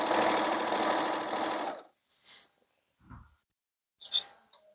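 A sewing machine stitches a long prom dress while its bulk is supported so the fabric feeds itself, running steadily and fairly close for about two seconds, then a few short clicks and handling noises follow.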